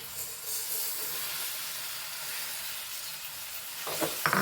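Dates soaked in vinegar are stirred into a green chilli pickle mixture in a pan. A soft, steady sizzle and hiss carries on, then a few sharp utensil clinks sound near the end, with no voices.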